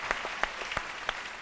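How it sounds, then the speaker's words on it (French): A French daytime TV studio audience claps in scattered, sparse bursts, with distinct individual claps standing out at a moderate distance rather than a full ovation. "On applaudit très fort, Dr Philo."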